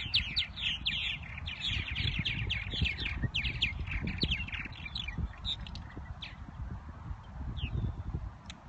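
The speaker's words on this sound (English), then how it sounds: "And these are purple martins." Purple martins chatter and chirp busily around their birdhouses beside a lake, a dense, continuous flock of overlapping calls with constant low background noise.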